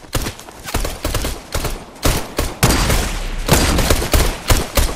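Rapid gunfire in the video game Fortnite, dense bursts of loud shots in quick clusters with short pauses between them, sounding close and hectic, with no voices over it.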